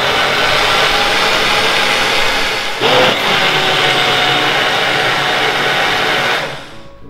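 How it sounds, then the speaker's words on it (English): A kitchen blender whirs loudly and steadily while blending a bread pudding mixture, with a brief dip midway before it resumes and then winds down at the end. "If you have a small blender, you can divide the mixture into 2 and blend it 1 at a time."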